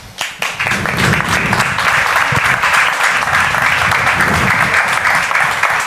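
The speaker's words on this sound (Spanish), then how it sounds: "vamos a dar un fuerte aplauso a Paco Aguilar" An audience applauds an artist being welcomed onto a stage, full sustained clapping from a crowd that stays steady and loud for several seconds.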